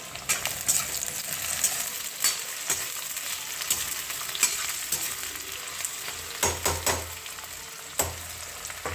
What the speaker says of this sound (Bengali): পেঁয়াজ তেজপাতা জিরে একসঙ্গে ভাজবো।